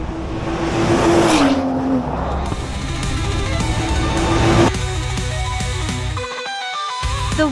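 Cars launching in a drag race, with a BMW M340i xDrive taking the win by a narrow margin: loud, close engines roar and rev with shifting pitch, tyres chirping and gear changes, continuous throughout.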